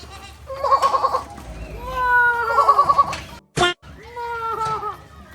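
A person imitates a goat, giving several wavering, nasal bleats in short bursts, with a sharp click or knock between them.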